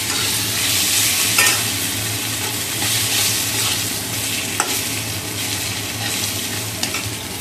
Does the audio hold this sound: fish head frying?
yes